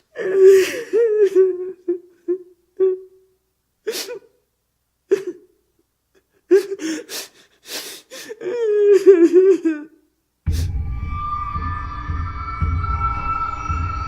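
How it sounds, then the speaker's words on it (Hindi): A person sobs and whimpers in broken, gasping bursts, followed by a steady low electronic hum. "तभी उसे किसी के रोने की आवाज सुनाई दी।"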